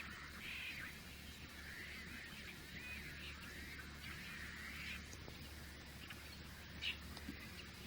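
Red-winged blackbirds call outdoors, a scattered series of faint, squeaky, buzzy notes over a steady low background hum.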